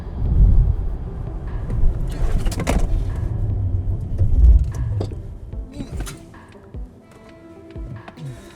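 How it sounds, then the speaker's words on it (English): A Polestar 4 SUV accelerates to about 60 mph, then the noise cuts off abruptly as it comes to a quick emergency stop, with a few faint knocks after. "We're going to get up to 60 miles an hour, hit the brakes"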